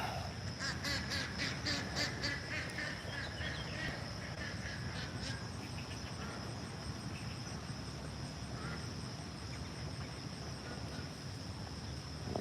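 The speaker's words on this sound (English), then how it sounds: "the ducks are going after each other this morning" Ducks quack and squabble through a steady outdoor background of insect and cricket buzz, with clustered quacks strongest early on and fading later; faint voices may sit underneath.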